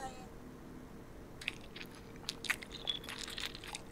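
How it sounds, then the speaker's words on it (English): Someone chewing and biting into food in a fairy-tale game about Vasilisa and Baba Yaga, with soft crunchy bites and wet chewing sounds scattered over the second half, fairly quiet, with no talking. "The chewing noises."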